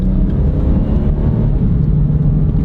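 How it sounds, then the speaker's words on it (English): A car engine accelerates on a drag strip, giving a loud, close, continuous low rumble and drone that holds steady throughout. "The engine sure sounds good."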